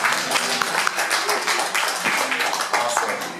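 Indoor meetup audience clapping in a steady, dense burst of applause that runs the whole time, loud and close with no pauses.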